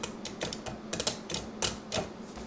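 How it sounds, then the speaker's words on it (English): Relays inside a Pricom Dream Power Switcher click several times in quick succession, close and fairly quiet, with no one talking. "you can hear the relays clicking."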